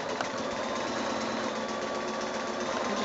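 A sewing machine runs steadily and close by, stitching a quarter-inch seam on squares for a small quilted bag with handles, its motor humming continuously with no pauses.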